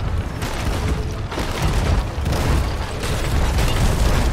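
Deep booming cannon blasts from a pirate ship battle in a video game, several heavy rumbling shots rolling one after another, loud and close with no voices over them.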